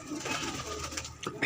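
Pigeons coo softly inside a pigeon shop, low throaty calls overlapping in a gentle continuous murmur at close range, with a few brief clicks and shuffles near the end.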